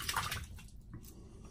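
A brass Karve safety razor is rinsed under running tap water to clear out shaving soap. A brief, quiet splashing gush sounds close, then thins and fades.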